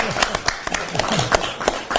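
Audience applause at a gathering with a Buddhist monk, quick scattered claps over a short stretch, with talking running underneath.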